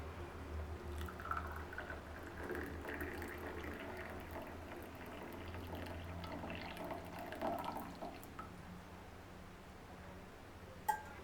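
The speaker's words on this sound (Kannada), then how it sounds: "ಒಂದು ಗ್ಲಾಸಿಗೆ ಹಾಕ್ತಾ ಇದ್ದೀನಿ" Freshly made immunity-boosting tea poured into a glass, a faint, continuous trickle and splash of liquid heard close by, soft and without talk.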